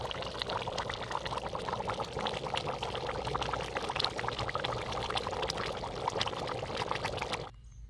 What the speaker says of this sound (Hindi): अंडा उबालने के लिए पानी।